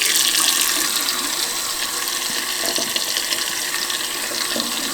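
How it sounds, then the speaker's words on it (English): Hot water runs steadily from a tap, a loud continuous hiss and splash with faint clinks and drips mixed in, close to the listener. "Hot water on."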